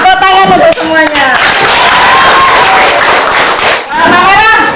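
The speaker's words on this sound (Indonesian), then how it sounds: "Ya, tepuk tangan untuk semuanya." A group of people at an environmental education workshop clap hands in brief bursts, mixed with cheerful voices and chatter that rise and fall around the applause.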